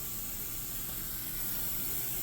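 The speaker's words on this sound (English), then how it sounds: "just giving this thing a very wide spray" A spray bottle mists fabric softener solution over a couch in a steady, wide hiss of fine droplets that continues unbroken and close to the listener.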